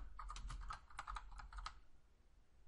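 Quick run of keystrokes on a computer keyboard as text is entered in Photoshop, about a dozen close, crisp clicks in an uneven rhythm for under two seconds, then quiet, with no voices.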